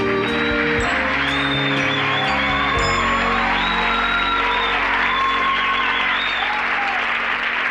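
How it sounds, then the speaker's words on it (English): Studio audience of a 1982 Garry Marshall sitcom gives a long, loud round of applause with whoops and cheers for a character's entrance, with music and a few voices mixed in. "even the most tertiary of characters get a lengthy round of applause"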